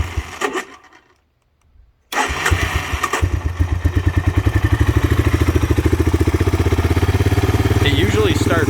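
A 1985 Honda Big Red three-wheeler engine cranks, then catches after a brief silence and settles into a loud, rough idle with a steady, slightly uneven putter close by, with some talk early on.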